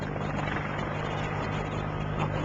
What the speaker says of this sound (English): Up in the helicopter.